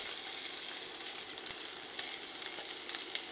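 Chopped onions for chana masala hit hot oil with spices and sizzle steadily, a bright, even frying hiss that runs without pause and without any voices.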